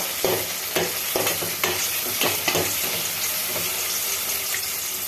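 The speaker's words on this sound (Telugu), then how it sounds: "ఒక 2 మినిట్స్ అలా వేయించేద్దాం." Onion and tomato frying in a pan for an egg curry, with steady close sizzling and repeated stirring scrapes throughout, no talking.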